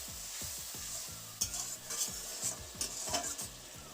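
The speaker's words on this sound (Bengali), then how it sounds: "এখন আমি অল্প জল অ্যাড করছি কারণ মশলাটাকে আরও বেশ কিছুক্ষণ কষিয়ে নিতে" Spice paste for a rohu fish curry with cauliflower and potato sizzles in a pan after a splash of water, with repeated close scraping stirring strokes across the whole stretch.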